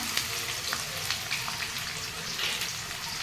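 Mustard seeds, curry leaves, green chili and onion fry in hot oil, a dense close crackling sizzle with scattered pops throughout.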